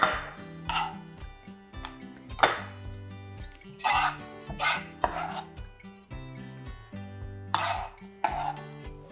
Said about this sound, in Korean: 양파 하나를 채 썹니다.